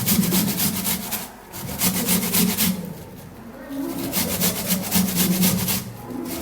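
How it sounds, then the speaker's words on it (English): An onion grated by hand, a steady scraping rasp in repeated strokes with short pauses between runs, close and fairly loud with no talk. "Alright, so now what we're going to do is to grate the onion."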